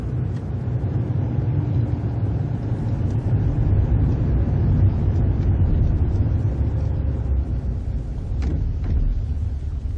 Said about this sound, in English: Stop the car. Pull in over there.